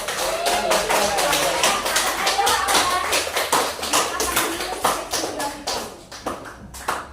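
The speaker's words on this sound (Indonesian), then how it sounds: "Tepuk tangan dulu." A classroom group claps hands together at the end of a lesson, a dense patter of many palms that fades and thins toward the end, with a few children's voices mixed in.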